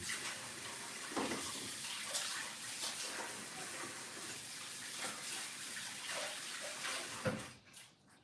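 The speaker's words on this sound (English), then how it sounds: "Let me wash my hands." Tap water runs steadily into a sink while hands are washed in a home kitchen during bread making, a continuous splashing rush with a few brief knocks, cutting off near the end.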